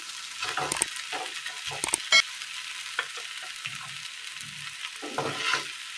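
Chopped idli sizzles in a hot pan while a spoon scrapes and stirs it in short, irregular bursts.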